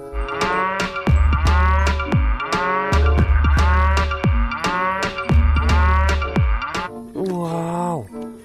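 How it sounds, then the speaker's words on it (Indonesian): A cow gives a run of loud, close moos in steady succession, each a deep drawn-out call, with a brief higher bleat-like sound at the end. "ini sapi teman-teman."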